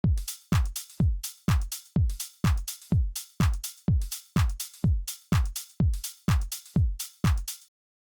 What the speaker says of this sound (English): And the drums are really simple, they just sound like this.